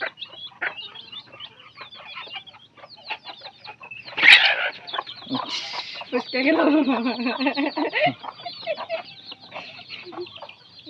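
Chickens cluck and squawk during a chicken-catching contest, with a loud flurry of alarmed calls in the middle as birds are chased, and people talking and shouting around them.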